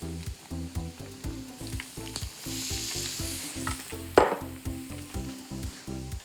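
Eggplant pieces in tempura batter deep-frying in hot oil, a loud close crackling sizzle with rhythmic bubbling pulses and a sharper burst partway through, no voices.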